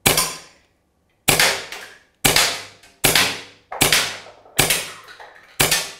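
Rapid sharp shots from an Edgun Leshiy 2 PCP air rifle, seven loud cracks in quick succession, each with a short decaying tail, close and clear with no talking.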